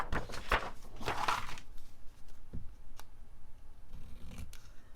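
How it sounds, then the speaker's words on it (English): Scissors snip through a paper pocket for a scrapbook layout, a quick burst of close crisp cuts in the first second and a half, then a few faint ticks and rustles. "all I do with this is I just eyeball it, just cut the pocket"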